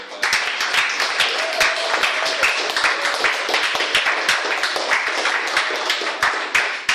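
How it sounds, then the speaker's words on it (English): An audience of students breaking into loud, sustained applause, dense overlapping claps filling the room for several seconds. "please a big round of applause for the"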